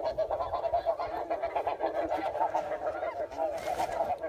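A flock of geese honks continuously at a goose hunt, many overlapping nasal calls at moderate distance forming a steady chorus that swells slightly toward the end.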